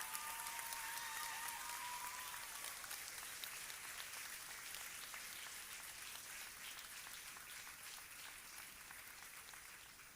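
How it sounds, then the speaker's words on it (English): A large audience at an Inner Wheel Club of Coimbatore district gathering rises to applaud President Falguna Badani and team, sustained crowd clapping that holds steady and then slowly fades toward the end. "Let's all rise and give President Falguna Badani and team a huge round of applause"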